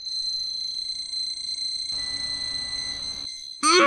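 Electronic beeps and tones from Digimon D-2 and D-3 Digivice toys linked in a connect battle, sustained steady pitched tones with a burst of chirpy sound near the end, no talking.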